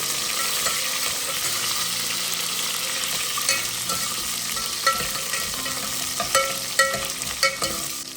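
Small sambar onions fry in a pan with a steady, fairly loud sizzle. Scraping stir strokes come faster in the second half, each making a brief crackle over the continuous hiss.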